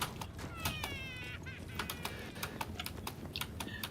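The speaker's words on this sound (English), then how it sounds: "all I hear is that magic, allergic cat whining" A cat meows and whines repeatedly in short, high cries, with rapid keyboard-like clicking tapping underneath throughout.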